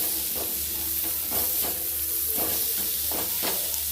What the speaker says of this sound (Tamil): இப்போ இதெல்லாம் நல்லா வதங்கணும்